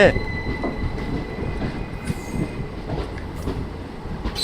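Passenger train at a station, heard as a steady loud rumble of rolling cars with a brief metallic wheel squeal at the start and faint clatter throughout, with no clear voices.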